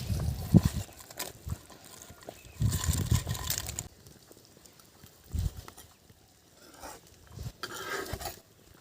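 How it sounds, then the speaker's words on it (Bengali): Live koi, tengra, puti fish and shrimp dropped into simmering curry broth, with irregular splashes, clatters of a pot and stirring in bursts, fairly close, and quiet gaps between. "এখন আমার ঝোলের মধ্যে দিয়ে দিচ্ছি সব মাছ ট্যাংরা মাছ এই কই মাছ এই পুঁটি মাছ"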